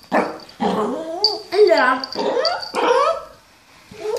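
A pet dog barks and whines excitedly in loud, close, repeated yelps and whimpers, with a person speaking briefly over the noise.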